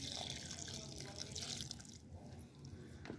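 Water is poured from above onto a potted brinjal plant, a close splashing and trickling into soil that tapers off toward the end.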